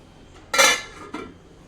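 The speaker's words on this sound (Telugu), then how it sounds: "ఇప్పుడు ఇక్కడ మూత పెట్టుకుందాం" A lid goes onto a cooking pot of stuffed eggplant curry, making two sharp metallic clanks about half a second apart, close and clear in an otherwise quiet kitchen.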